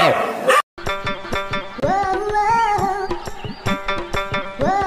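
Repeated yips and barks from a dog in the Free Fire video game, a loud, rapid series of sharp calls with a longer whining howl in the middle.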